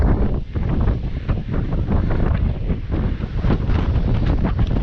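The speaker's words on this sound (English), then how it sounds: "Even if it's windy." Strong wind buffets the microphone on a mountain lookout in the Outeniqua range, a continuous loud, rumbling roar with gusty swells and no voices.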